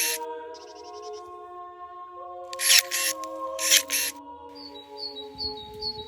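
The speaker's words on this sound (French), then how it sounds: "C'est le bruit d'un sécateur, taillant le vieux bois et les nouvelles pousses de la vigne" Pruning shears cut old wood and new shoots on grapevines during winter pruning at La Pèira in the Terrasses du Larzac, southern France: two sharp, close snips with faint bird chirps in a quiet outdoor background.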